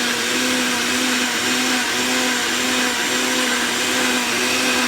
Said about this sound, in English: And blend.